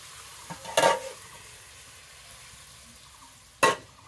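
Hot water poured into sizzling fried masala, two sharp hissing bursts of steam and spatter separated by a few seconds of quiet, with faint stirring between.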